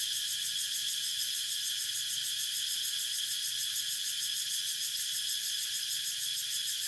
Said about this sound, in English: it's so peaceful listening to the cicadas